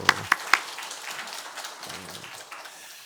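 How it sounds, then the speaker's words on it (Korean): A church congregation at a Sunday morning worship service gives a few sharp, close claps followed by faint, scattered clapping that fades quickly. "박수."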